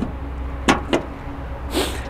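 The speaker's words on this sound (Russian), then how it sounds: "Сейчас мы с вами откроем подкапотку" Latch clicks and a soft thunk as the hood of a Honda Stepwgn Spada RP5 hybrid minivan is released and lifted, two quick close knocks followed by a brief rustling clunk, no voices.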